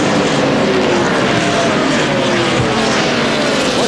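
Engine of a NASCAR Craftsman Truck Series truck at the 2000 Napa 250, a loud, steady race-engine drone sustained throughout with a harsh broadband roar, no voices over it.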